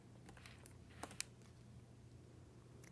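Someone types a search on a computer keyboard: faint, quick key taps in an uneven patter over low room hum, with no talking.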